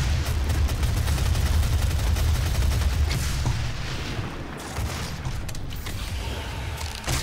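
A big gun fires in the video game Doom. Heavy, continuous mechanical gunfire and rumbling bursts run loud through most of the clip, then ease off slightly toward the end.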